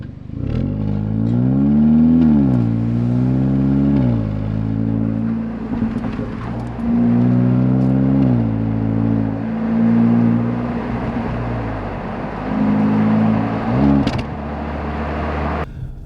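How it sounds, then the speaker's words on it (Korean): A Hyundai Elantra N Line engine revs up and down repeatedly as the car drives, its exhaust note rising and falling in waves, with a few sharp pops near the end. "이런 뒤에서 블리핑 소리, 후적 소리 있죠."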